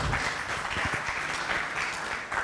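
A crowd at a music launch event claps in a dense, sustained burst of applause, fairly loud and continuous throughout.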